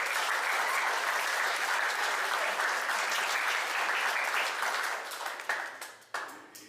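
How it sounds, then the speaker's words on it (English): An audience at a school athletic sports banquet claps in sustained, dense applause for several seconds, fairly distant, thinning out into scattered final claps at the end. "let's give them a round of applause"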